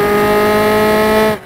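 A Formula Taatus race car in the RaceRoom racing game brakes hard with its wheels locked, giving a loud, steady, tonal engine-and-tyre whine that holds for about a second before cutting off abruptly.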